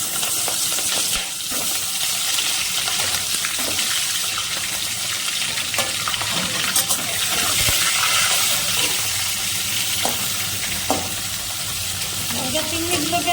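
Prawns frying in hot mustard oil in a wok: a steady, loud hiss and crackle of sizzling runs throughout, with occasional clinks and pops.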